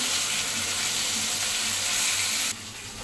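Eggplant slices sizzle and fry in a hot pan, a loud continuous crackling hiss that drops to a quieter sizzle near the end, with no voices.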